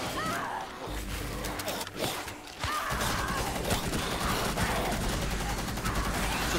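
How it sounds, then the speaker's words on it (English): Suppressing gunfire rattles in the video game Operation Outbreak, dense overlapping bursts forming a continuous loud barrage that briefly thins before building again to a sustained roar of shots. "Suppressing fire!"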